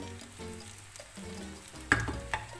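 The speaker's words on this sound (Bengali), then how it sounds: "আমার মগজ ভাজিটা হয়ে গেছে সুন্দর করে লাল লাল হয়ে আসছে একটু আলু দিয়ে দিয়েছিলাম" Brain pieces frying with potatoes in a pan give a steady low sizzle, broken by a couple of sharper scrapes or clinks near the end.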